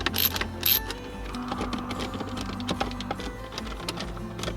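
Phillips head screws being removed from the top of a car radio out of a 14-year-old Honda Accord, with a small electric screwdriver whirring in short bursts and light clicks and rattles nearby, close and fairly quiet.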